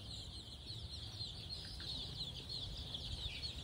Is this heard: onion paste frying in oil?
no